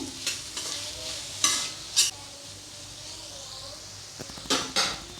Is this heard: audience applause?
no